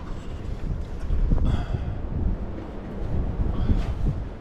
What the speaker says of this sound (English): As I said, the wind's up.